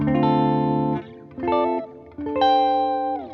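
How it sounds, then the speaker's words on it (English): Electric guitar chords ring out through a lush reverb effect, each strum sustaining and blooming into a warm wash before fading. "making a really warm, big reverb"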